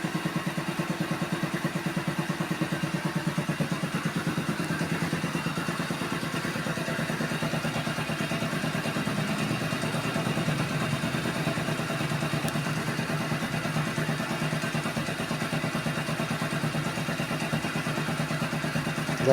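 A MotorStar Easy Ride 125 motorcycle idles steadily after being fitted with a new carburetor, its close, even mid-pitched engine note holding without stalling throughout and joined by a light mechanical clatter.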